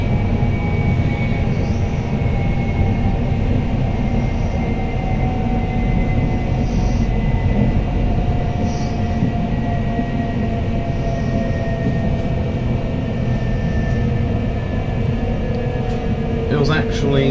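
A TransPennine Express train from Edinburgh to Manchester Airport rumbles steadily with a constant low drone and faint tonal whine as it runs between stations, while an onboard announcement voice speaks over it.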